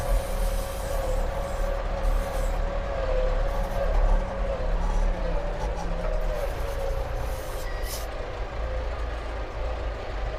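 A DTZ 5504 tractor in fourth low gear discs virgin soil with a 2.4 m Bomet disc harrow, its engine a steady, loud drone heard from the cab with a constant rumble and no pauses.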